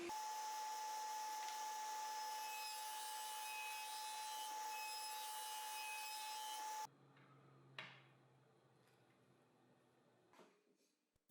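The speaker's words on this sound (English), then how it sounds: "Finally, I'll cut a dado so that I can install the T-track" A dado being cut in a wooden board, a steady loud high-pitched machining whine for about seven seconds that stops abruptly, followed by faint knocks and handling of the wood.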